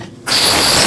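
A ratchet snugs up the top wheel bearing bolts on the rear knuckle of a 2014-2023 Jeep Cherokee, starting after a brief quiet moment and then running as a steady, close mechanical clicking to the end.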